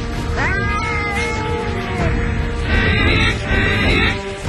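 Live cats meowing at a cemetery in Saharanpur, several overlapping cries rising and falling close by over a steady murmur of background noise.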